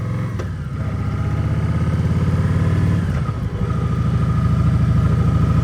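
A 2022 Kawasaki Vulcan Voyager motorcycle engine idles steadily close by, a low, even throb with a light mechanical clatter and a brief dip partway through, no voices.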